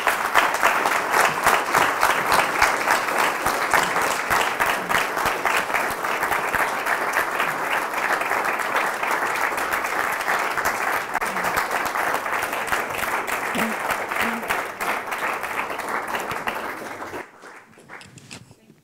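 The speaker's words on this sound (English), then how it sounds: "It was the biggest and longest applause." Long, sustained audience applause after a keynote speech at a teaching conference, dense and steady clapping from a large crowd for about seventeen seconds before dropping off abruptly near the end.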